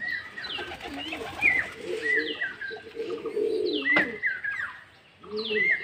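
Young pigeons coo and chirp up close in a lively, overlapping mix of soft throaty coos and higher calls, with a brief flutter of wings partway through.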